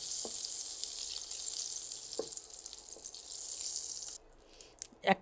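Butter sizzling in a pan for butter garlic potatoes: a steady, hissing fry that runs for about four seconds, then drops away, followed by a couple of clinks from a utensil.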